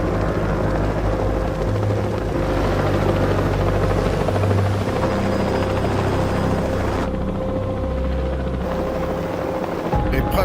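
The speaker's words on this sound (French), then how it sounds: "J'ai l'impression que c'est un hélicoptère." A helicopter drones loud and steady overhead, its rotor thrum filling the air the whole time with no letup.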